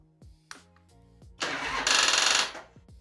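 A Harley motorcycle engine fitted with an Amazon carburetor, choke pulled and battery dead, cranks over in one loud, rapidly pulsing burst of just over a second, then falls away, with scattered faint tones and clicks around it.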